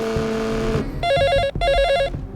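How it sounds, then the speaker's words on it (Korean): A mobile phone ringtone rings in a film scene, two bursts of a repeated electronic tone pattern sounding close and clear after a short stretch of background music, with no one talking. "벨소리와 진동 소리를 반복해 건수를 짜증나게 하려는 연출이었다고 합니다"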